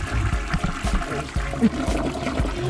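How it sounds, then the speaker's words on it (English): Toilet flushing inside a camper van, a close gurgling rush of water with uneven trickling pulses that runs for a few seconds and stays loud throughout. "Did you remember how to flush the toilet?"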